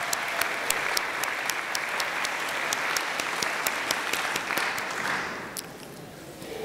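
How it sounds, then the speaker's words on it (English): A crowd at a 2018 summer commencement at Tuskegee University gives a sustained round of applause, crisp individual claps standing out, the clapping thinning and fading in the final seconds. "Let's give her another round of applause."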